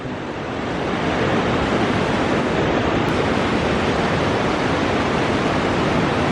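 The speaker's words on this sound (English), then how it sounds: "This is the falls that's behind my neighbor's campsite." A waterfall behind a neighbor's campsite pours in a dense, steady roar of broadband rushing water, close and loud, swelling slightly in the first second and then holding constant.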